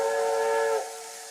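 A loud, steady American steam whistle from the RO-Scale Sandbox train game sounds a single sustained chord-like blast that cuts off sharply after under a second, leaving a faint residual hiss.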